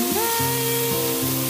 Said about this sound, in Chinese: 接着翻炒几下就可以出锅